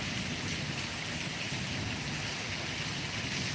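Heavy torrential monsoon downpour pours steadily over a waterlogged spot with standing floodwater, a dense unbroken roar of rain close by with no voices.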